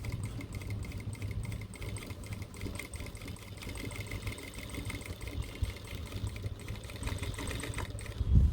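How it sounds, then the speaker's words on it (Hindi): A sewing machine runs steadily, stitching along the pocket edge of cargo pants with a continuous even whir and rapid needle rhythm, fairly quiet, with no pauses. "पहले किनारे पे सिलाई लगानी है"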